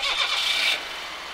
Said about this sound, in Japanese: はい、エンジンかけます